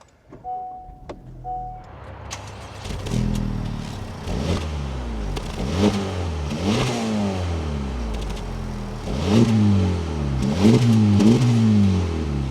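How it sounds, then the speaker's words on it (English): A Honda Civic Type R (FL5) engine cranks and catches after a couple of electronic chimes, then idles and is revved several times in rising, falling sweeps. "with my foot on the brake and the clutch, we can bring this to life."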